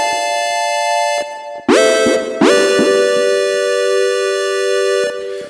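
Synth lead patch built in Native Instruments Massive sounds bright and brassy and horn-like. Sharp attacks strike at irregular points under long sustained chords, loud and alone.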